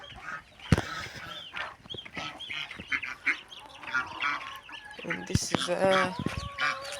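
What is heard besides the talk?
geese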